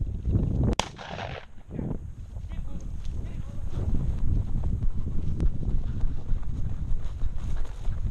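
A single loud, close shotgun blast during a pheasant hunt in an open field, followed by steady wind and rustling movement noise.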